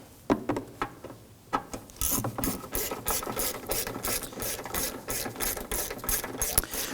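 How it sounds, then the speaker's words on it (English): Hand ratchet tightening a bolt on the air box of a 2005–2009 Subaru Legacy 2.5L H4, with a few slow clicks at first and then a steady, rapid run of close ratcheting clicks. "go ahead and pop our ratchet onto there"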